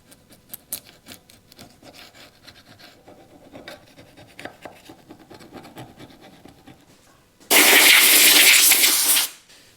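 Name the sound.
blunt scraper scraping corrosion off aluminium cam cover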